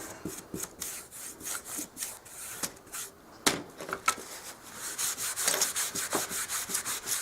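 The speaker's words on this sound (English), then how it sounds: "I just rub it really well. Wipe off as much of the excess." A cloth rubs paint off a small wooden doll-size fireplace in rapid, rhythmic back-and-forth strokes, close and fairly loud, with a brief knock midway and no talk.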